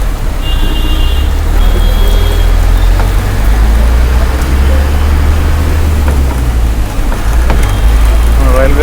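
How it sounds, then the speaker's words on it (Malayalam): Rain falls steadily in Mumbai near a railway station, a constant hiss over a loud low rumble of traffic, with a few brief horn-like tones early on. "നല്ല വലിയ രീതിയിലുള്ള മഴയില്ലെങ്കിലും നന്നായിട്ട് തന്നെ മഴ പെയ്യുന്നത് കാണാൻ പറ്റുന്നുണ്ട്"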